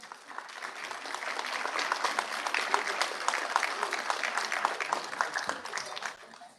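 A school crowd at the Southside Middle School 8th grade recognition ceremony claps for the teaching and support staff: dense, steady applause that holds at an even level for several seconds before tapering at the very end.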